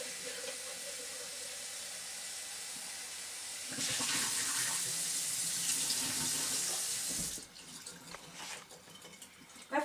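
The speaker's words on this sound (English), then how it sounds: "we want to rinse it out until the water runs clear" Grain blend for sprouting bird food is rinsed under a running kitchen tap, a steady rushing stream that swells louder midway, then drops to lighter, uneven splashing near the end.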